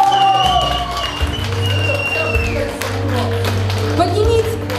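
Guests applauding the newlyweds at a wedding, clapping that runs steadily under music and a host's voice, with a low hum throughout.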